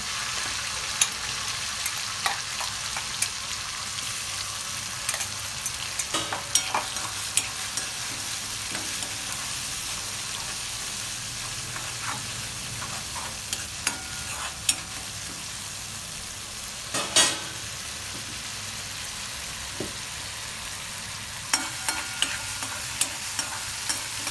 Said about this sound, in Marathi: पेस्ट चांगली अशी परतू द्यायची चांगली भाजून घ्यायची